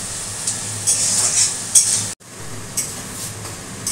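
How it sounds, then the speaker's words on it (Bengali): Onion and tomato fry in a pan as a utensil stirs and scrapes through them, bursts of sizzling hiss with metallic clinks, broken by a sudden brief cut before the frying resumes. "এবার পেঁয়াজটা লাল লাল করে ভাজাবো, আর আমি একসাথে এই টমেটোটাও দিয়ে দিচ্ছি"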